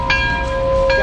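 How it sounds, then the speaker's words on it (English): A bell rings out loud and close, two sharp struck tones with a long sustained ringing hum carrying between them. "Somebody ring the bell!"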